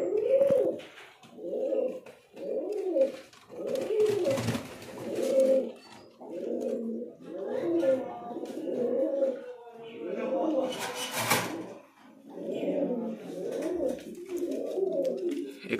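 Lotan pigeons in a loft give repeated soft rhythmic coos, close and fairly clear, with brief rustling and wing noise between calls.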